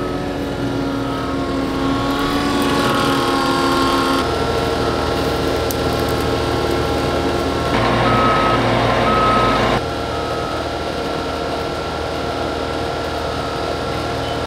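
Nexat system tractor driving slowly under the Vaderstad seed tanks of a pneumatic seed drill, a steady engine hum with a repeating reversing beep and mechanical whine, close and continuous for about fifteen seconds.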